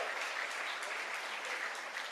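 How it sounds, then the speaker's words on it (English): At the Maryland Arts Day 2026 event, an audience gives a round of applause, a busy, even patter of many hands clapping steadily from start to finish. "give them a round of applause."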